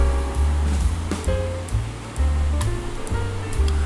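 Water rushes steadily down a waterfall at Perumbankuthu, a loud continuous roar with surging swells, heard close and alone.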